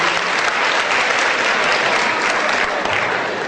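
A student audience at a Hindi comic poetry gathering claps loudly and continuously, a dense, even roar of many hands that fills the hall for several seconds with no voice above it.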